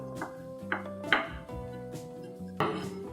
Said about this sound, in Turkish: Şimdi maydanozumun soğanımı ve iceberg marulumu doğramaya geçiyorum